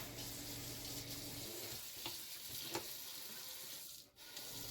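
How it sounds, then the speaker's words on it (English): Water runs steadily from a newly installed kitchen faucet, a faint continuous hiss and splash into the sink with a few small knocks and a brief dip near the end. "then turn the faucet on"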